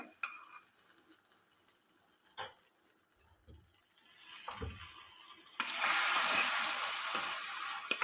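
Quiet clinks open, then a hot pan bursts into loud crackling sizzle as fried coconut and mustard seed tempering is tipped in, hissing steadily to the end.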